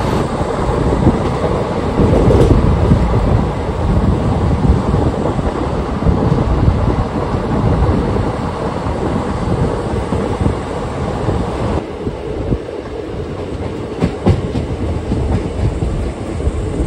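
A Valsad–Mumbai Central non-AC double-decker train hauled by a WAP4 electric locomotive rumbles along steadily at speed, a loud, continuous clatter and roar from on board with rhythmic wheel clicks, no voices.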